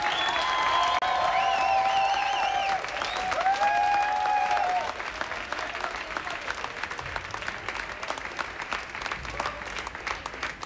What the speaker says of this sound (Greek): Ένα χειροκρότημα παρακαλώ από όλους.